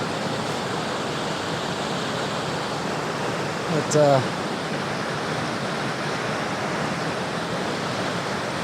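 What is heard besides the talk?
West Creek Falls waterfall flowing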